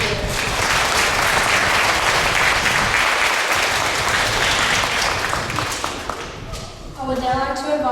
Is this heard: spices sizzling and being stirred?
no